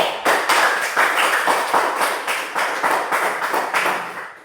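Students in a classroom clap for a group that just presented, a steady rhythmic round of many hands, fairly loud and close, with regular pulsing beats that taper off toward the end.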